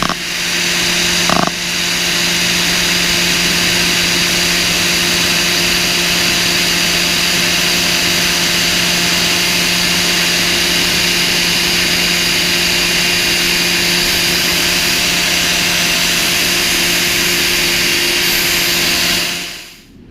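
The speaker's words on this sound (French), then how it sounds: "Du coup, j'y attaque à l'étau et à la meuleuse." An angle grinder shapes a wooden Motobécane mobylette toolbox lid held in a vise. The loud, steady high-pitched whine runs continuously for about twenty seconds, with a brief bump near the start and a drop-off at the very end.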